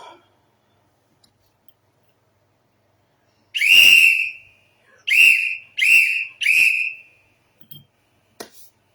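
A whistle is blown four times in a row, sharp shrill blasts near and loud with short gaps, the first held longer and the rest quicker, then a couple of faint clicks.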